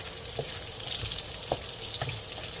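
Pork belly fries in a pan with a continuous close sizzle, broken by a few brief stirring scrapes and soft bumps against the pan.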